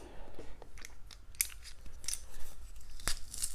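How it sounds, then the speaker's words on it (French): Garlic cloves are squeezed through a garlic press, giving a run of short crunchy squelches and crackles, close up, with no talk. "Donc, je presse mon ail."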